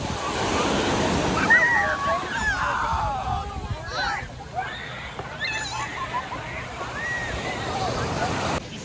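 Ocean surf washes steadily onto a busy beach, with a continuous rushing wash and people talking and a crowd murmuring over it nearby.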